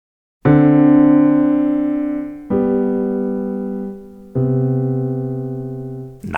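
Piano plays a 2-5-1 chord progression in cocktail style, three rich sustained chords struck about two seconds apart, each ringing and slowly decaying, close and clear with no voices.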